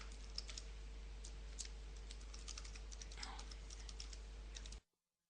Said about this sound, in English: type my email address.